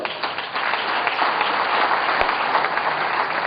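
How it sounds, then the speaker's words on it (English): An audience at a district installation event breaks into dense, sustained applause, many hands clapping steadily throughout. "I want you to give them a round of applause"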